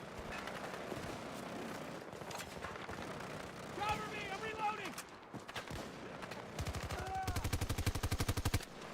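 Automatic and single gunfire in the shooter game Battlefield, rapid loud bursts with mechanical clatter and a dense rattling volley near the end, over constant background game noise.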